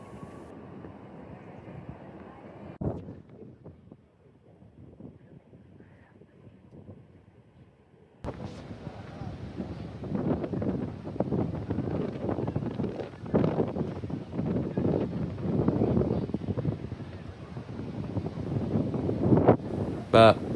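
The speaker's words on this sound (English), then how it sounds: "this is a bit windy for that there, but it's still very warm for that" Wind gusts outdoors on a warm day, rushing across the microphone in a broad, uneven roar that swells after a quieter stretch, with a person talking over parts of it.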